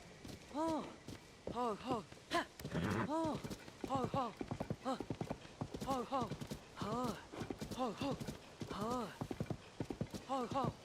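Horse hooves clip-clop in a steady walking rhythm in Tears of the Kingdom, close and fairly loud, with someone talking over them.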